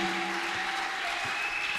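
A church congregation applauds steadily, a dense continuous wash of many hands clapping close by, with a faint sustained tone underneath.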